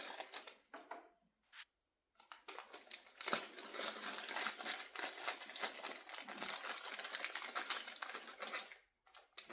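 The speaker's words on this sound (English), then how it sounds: "Oh, I'm gonna do the dice." Dice rattle and tumble during a tarot reading, a few brief clicks and then a long, dense stretch of close, crisp clattering before it trails off into scattered taps, with no speech.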